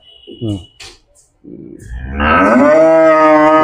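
Cows and buffaloes at a dairy farm in Prayagraj moo at milking time, with a short low call early on, then a loud, long, drawn-out moo rising close by over barn noise.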